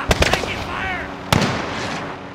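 Gunfire in Call of Duty: Modern Warfare Spec-Ops, a quick burst of three sharp shots followed by a single loud crack, close and punchy amid a low rumbling game background.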